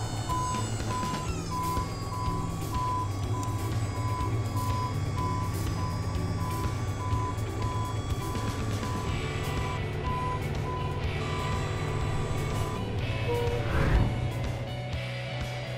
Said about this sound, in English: So this is a garbage truck with side loading.